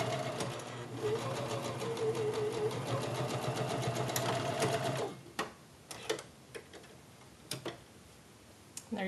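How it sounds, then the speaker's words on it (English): A sewing machine runs steadily as it stitches a narrow hem along the folded edge of a kimono sleeve, a rapid mechanical whir with ticking, then stops halfway through, leaving a few scattered clicks and handling noises. "sew along that line about 1/8 inch in from the fold to finish off your seam"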